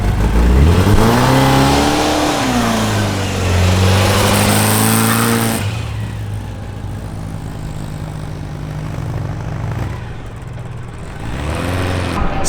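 Hoonigan's Shart Cart engine revs hard right after a jump start, a loud rising and falling roar that then settles into a rough, steady idle rumble, up close.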